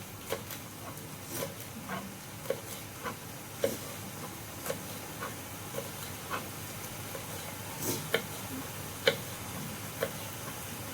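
A knife taps a board in fine chopping, sharp separate clicks spaced unevenly about once a second over a faint hiss, close and crisp with no talking.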